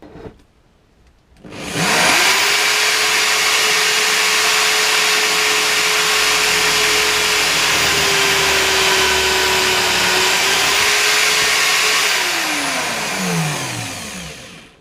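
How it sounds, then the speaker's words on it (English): A power drill bores through wood while a mallet is being made, rising to a loud, steady whine after a quiet start and running continuously up close before spinning down at the end. "and now I'm drilling it all the way to the other side."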